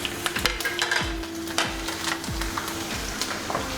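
Cumin, coriander, ginger and garlic frying on a simmering pan for Punjabi dhaba-style chole, giving a steady close sizzle with periodic stirring scrapes and a few clinks of utensils.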